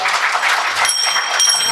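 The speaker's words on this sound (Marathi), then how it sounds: "त्या यूट्यूब चॅनलचे ओमन श्री आमचे समीर दादा यांच्यासाठी एकदा टाळ्या होऊ द्या" An audience at a public kirtan in Madhya Pradesh breaks into brisk, dense applause, a short continuous burst of many hands clapping at once.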